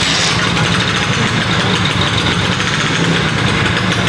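A Vespa scooter engine idles steadily after starting, a constant close putter with a slightly rough, knocking edge, running on without pause.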